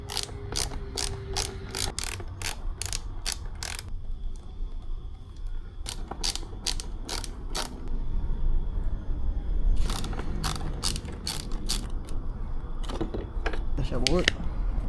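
A ratchet tool works loose the screws on the air filter cover of a CFMOTO 450MT motorcycle, rapid close clicking in several bursts separated by pauses, with someone talking briefly in between.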